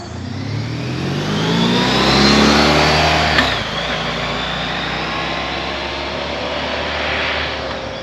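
A Honda ST1300 Pan European motorcycle engine is revved up and held at speed, loud and close, with a brief click midway before it settles into a steady, slightly lower run.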